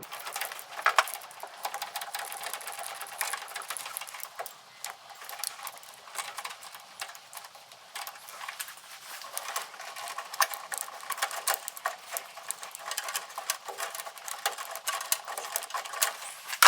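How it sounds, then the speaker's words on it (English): Ratchet tightening parts on a Jeep Willys engine, a rapid light clicking pattern that keeps going in quick bursts, close by and fairly quiet, with no talking. "needed to switch to a ratchet"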